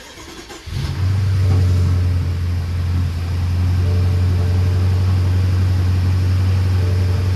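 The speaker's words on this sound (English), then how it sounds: "We're gonna fire her up and see what she says to us." A BMW 650i Gran Coupe with the twin-turbo N63TU V8, 185K miles, check engine light on, cranks and fires after a brief pause, then settles into a loud, steady, close-up idle.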